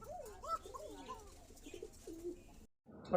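Pigeons coo nearby in a quick series of soft, throaty, warbling calls that overlap a little before stopping abruptly.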